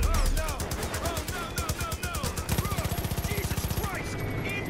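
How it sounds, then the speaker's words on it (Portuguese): Rapid machine gun bursts in Far Cry 5 rattle in quick, steady rhythm, loud and close, with game explosions and effects layered around them. "Acabo de botar na metralhadora."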